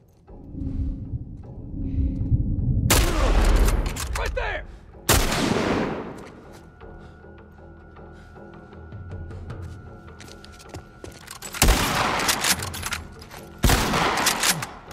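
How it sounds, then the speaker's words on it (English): Gunfire in The Last of Us Part I, heavy booming shots and bursts crack out at close range, several loud blasts over about fifteen seconds with rumbling decay between them, and faint game sounds underneath. "Gunshot!"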